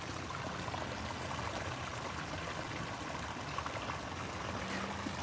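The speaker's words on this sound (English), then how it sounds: "And then the waterfalls." Garden waterfall water feature lit at night among boulders, giving a soft, continuous splashing trickle that stays even and fairly quiet throughout.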